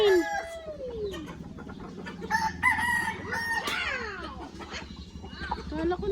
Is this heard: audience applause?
no